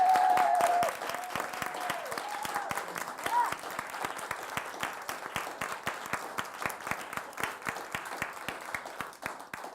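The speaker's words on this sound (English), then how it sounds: "One more round of applause for them" An audience at a live arts education show claps warmly for young performers and their instructor, starting loud and thinning into scattered individual claps near the end, with a voice briefly heard early on.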